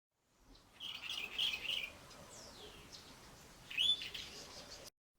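A Cape robin-chat mimics the call of a Cape Batis, with two short bursts of clear whistled notes separated by a pause, over soft background hiss.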